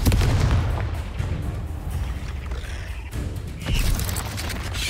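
The Confringo blasting spell explodes in Hogwarts Legacy, a dense roaring boom with crackling debris that thins out briefly before a second burst swells. It is loud and close, with clanking mechanisms mixed in.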